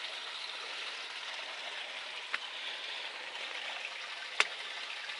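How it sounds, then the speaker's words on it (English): A stream runs in Mahoosuc Notch on the Appalachian Trail, a faint, steady broadband rush of flowing water with a couple of small sharp ticks, distant and quiet throughout. "It is water running."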